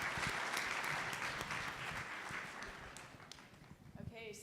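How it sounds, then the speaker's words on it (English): Audience applauding panelists at a panel event, a steady wash of clapping that slowly fades across the clip, with a few louder individual claps near the end. "Can I get a big round of applause for all of our panelists"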